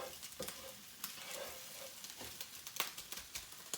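Green eggs and ham sizzle in a frying pan, with a soft, steady crackle and occasional scraping stirs. The sound is close and fairly quiet, and no one speaks.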